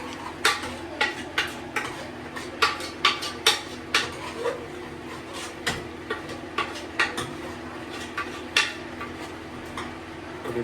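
A metal spoon mixing dhania powder masala in a pot for nattu kozhi kulambu, a country chicken gravy, clinks and scrapes against the pot in a steady series of sharp taps over a low background hum.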